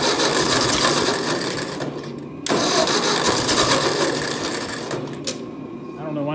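A 600 engine cranks on a weakening starter and sputters toward starting, with a loud, continuous mechanical whir and chatter close by and a sudden surge partway through.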